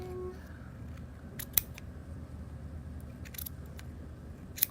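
Scissors trimming a yarn pom-pom, a few sharp isolated snips spread over quiet room background, close and fairly crisp.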